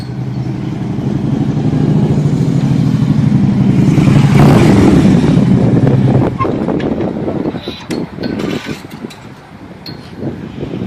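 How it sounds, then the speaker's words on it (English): A motorcycle fitted with aftermarket CFR exhaust pipes roars loudly and steadily for several seconds, then fades and drops off into scattered rumbles, with wind buffeting the microphone. "CFRs, pipe everybody wants."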